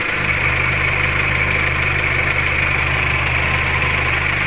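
A Chevrolet Captiva petrol engine idles steadily and loudly close by before its oil has circulated, with a constant low mechanical hum and a rattling, ticking texture throughout, no voices.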